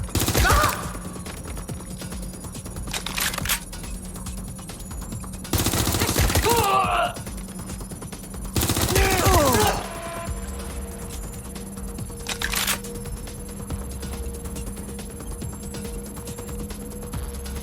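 Gunfire in the video game Watch Dogs Legion, with loud bursts of rapid automatic shots at the start and then twice more in the middle, each lasting about a second, over a steady background hum.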